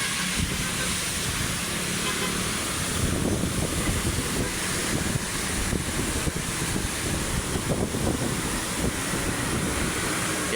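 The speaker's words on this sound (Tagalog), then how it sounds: "Ayan, umaalon yung ating dagat." Rough sea at Manila Bay churns and crashes in a continuous roar, heavily buffeted by strong wind across the microphone, loud and unbroken throughout.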